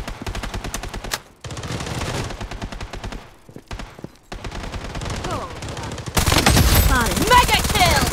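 Loud automatic gunfire in the video game Blood Strike, rapid bursts of close shots broken by brief pauses, ending in a dense, heavier barrage with game voice callouts over it.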